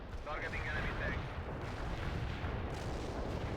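Artillery barrage in the video game World in Conflict, a steady rumbling roar of distant shelling with dull thuds and a brief higher whine early on, continuous and moderately loud throughout.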